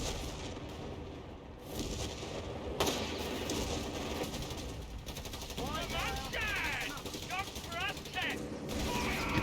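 Dense game battle from Company of Heroes 3 with rapid machine-gun fire and shots pinging off a Matilda tank, steady and loud throughout, with sharp impacts and metallic ricochets layered over continuous combat din.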